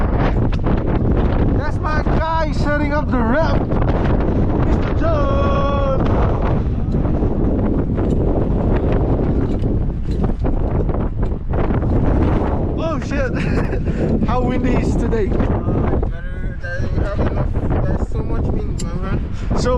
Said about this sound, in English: Terrible wind today.